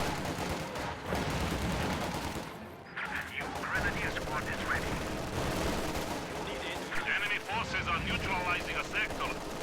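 Bursts of machine gun fire rattle through a video game battle with grenadiers, conscripts and a bunker, sharp repeated volleys and scattered shots mixed with explosions and distant battle noise, while a commentator talks over it.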